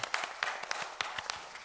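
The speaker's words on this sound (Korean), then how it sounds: "하나님께 영광의 박수 올려드리겠습니다" Scattered congregation applause in a church service, sparse distinct claps at an uneven rhythm, fairly faint and distant.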